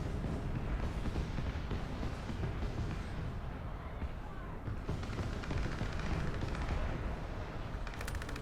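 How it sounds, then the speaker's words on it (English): Artillery shells bursting against a bridge during a War Thunder tank battle with an Italian M13/40 medium tank, a dense, steady rumble of low booms and crackling impacts throughout, with a faint voice underneath. "Oh, there's arty. Looks like some of it is detonating on the bridge up there above him."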